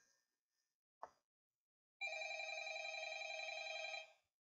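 Telephone ringing in the Five Nights at Freddy's video game: a steady electronic ring lasting about two seconds, loud and alone, after a brief knock or click.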